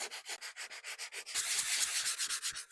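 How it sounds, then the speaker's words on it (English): A fine-grained sanding block rubs across a wood floor repair in steady back-and-forth strokes, about five per second, close and continuous with no voices. "Next, come in with sandpaper. Here I got a fine grained sand block."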